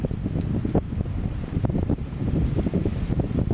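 Strong wind roars and buffets the microphone in continuous gusts at the Grand Canyon river, with water sloshing faintly beneath; nobody speaks.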